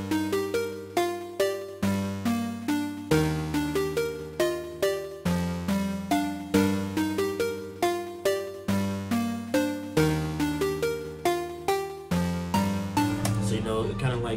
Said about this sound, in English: got this one shot from Some Boys One Shot Kit.